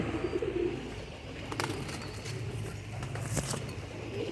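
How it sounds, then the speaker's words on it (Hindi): Pigeons coo softly in a loft, low murmuring calls close by with faint rustling and brief wing flutters. "ये देखें माशाल्लाह बड़े अनमोल कबूतर हैं दोस्तों, बहुत ही VIP कबूतर हैं।"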